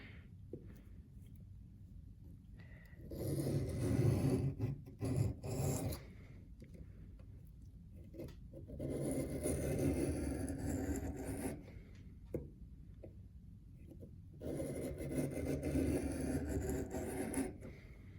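A reed knife is drawn across a sharpening stone in three rasping bursts of repeated swipes, each lasting a few seconds with quiet pauses between, close and fairly soft.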